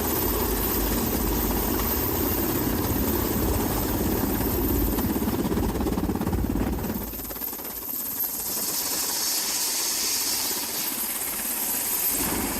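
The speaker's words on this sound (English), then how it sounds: "This is what it looks like when a Black Hawk lands on an aircraft carrier at night" Steady thudding rotor and engine roar of a Black Hawk helicopter landing on an aircraft carrier at night with mechanical issues, loud and close, easing slightly partway through while the whine continues.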